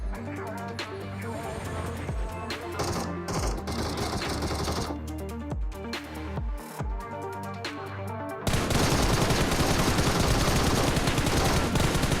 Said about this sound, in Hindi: मेरे लेफ्ट साइड से मुझे गोलियां चलने की आवाज आती है